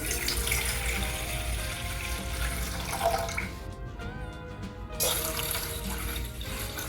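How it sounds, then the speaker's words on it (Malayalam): Water pours steadily into a pot on the stove while a Kerala-style tulsi drink is prepared, a continuous close splashing stream with a brief lull midway and no talking. "ഒരു പാത്രം അടുപ്പത്ത് വെച്ച് അതിലേക്ക് നമുക്ക് ആവശ്യത്തിനുള്ള വെള്ളം ഒഴിച്ചു കൊടുക്കാം"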